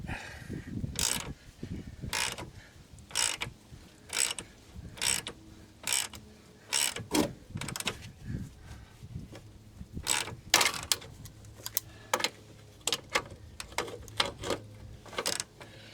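A ratchet wrench working an 18mm bolt on a 2010 Jeep Patriot, a steady series of short clicking bursts at a regular pace with small pauses between strokes, close and fairly quiet.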